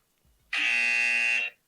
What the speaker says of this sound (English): He's got the Family Feud buzzer, I think